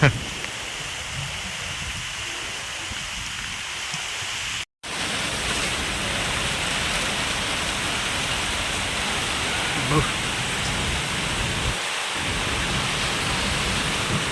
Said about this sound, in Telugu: ఖచ్చితంగా భారీ వర్షం అనమాట స్టార్ట్ అయింది